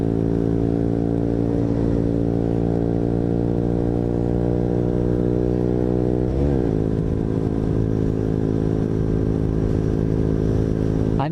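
A KTM RC125 motorcycle engine climbing uphill, a steady close drone that rises in pitch, drops briefly at a downshift and then builds again, loud over the ride with no talking.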